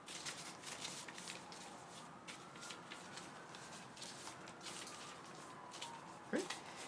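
Soft, quiet papery riffling of cards being shuffled in short bursts, close by, with no talking.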